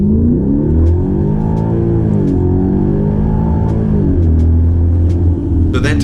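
A 2012 Hyundai Genesis 5.0 R-Spec with about 140,000 miles makes a hard launch from 1,500 RPM. A loud, close engine roar climbs in pitch, dips briefly at each gear change, then keeps pulling without a break.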